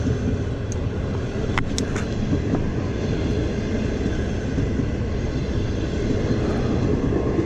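A Hexie locomotive hauling a long green-skinned passenger train, Qiqihar to Hangzhou, rumbles past close by as a steady, loud broadband roar with a few brief high squeals, continuous throughout.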